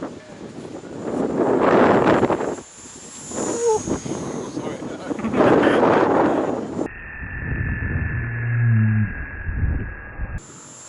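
RC Spitfire model plane at full throttle on a windy day, its engine droning and swelling as it passes, heavily buffeted by wind noise on the microphone, with a person talking over parts of it.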